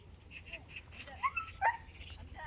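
A pet dog indoors gives high whimpers and a few short yips and barks over a couple of seconds, moderately close, against a quiet room with faint background voice.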